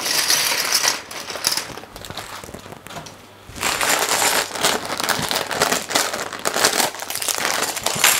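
Crinkly plastic rustling and crumpling up close, steady handling with a brief quieter pause midway, no one speaking.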